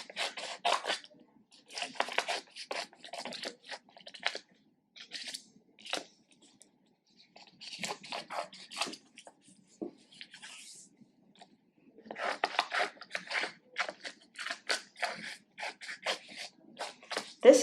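Scissors cut through paper in quiet, quick runs of crisp snips, grouped into several bursts separated by short pauses.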